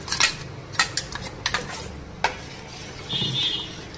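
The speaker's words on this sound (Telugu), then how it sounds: "కలపాలి, బాగా కలపాలి, లేకంటే అడుగంటుతుంది." A spoon clinks and scrapes against a pot while stirring jaggery milk payasam, a few sharp taps spaced over a few seconds with a soft swirl at the end, close by and without talk.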